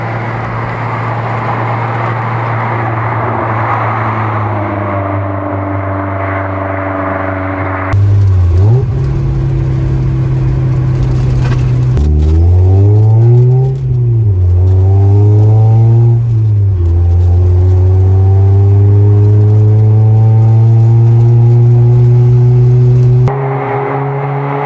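A 1995 Mazda Miata fitted with an ISR exhaust idles loudly up close, then is revved several times with rising and falling engine pitch before settling back to a steady, droning idle.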